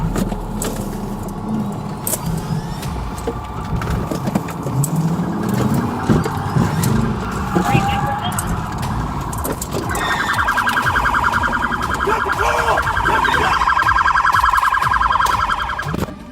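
A loud police car siren wails continuously over rumbling traffic noise during a high-speed chase, growing steadier and more prominent in the second half.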